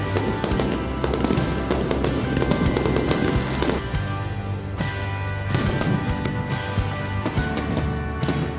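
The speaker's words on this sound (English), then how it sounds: "there's fireworks and they're going off right now" Fireworks bursting over the Chicago skyline at night, a dense run of booms and crackles that goes on steadily throughout, loud and fairly close.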